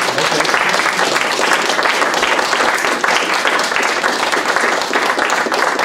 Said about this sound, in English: How about some applause?